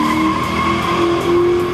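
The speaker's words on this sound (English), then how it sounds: "It's a 1967 Ford Mustang. It's running a 289 stroker, and about 350 horsepower." A 1967 Ford Mustang with a 289 Windsor stroker of about 350 horsepower squeals its tires in a loud, sustained skid with steady engine roar beneath.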